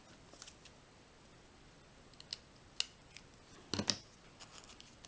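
Scissors cutting a piece of paper in half, several sharp separate snips spread across a quiet background, with a small cluster of cuts near the end.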